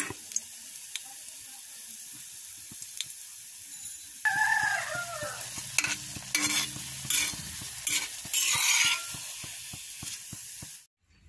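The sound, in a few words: milk bread frying in a pan, turned side to side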